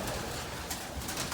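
Homing pigeons coo softly in a loft among several birds, a low steady murmur of cooing sitting under faint background noise through the short moment.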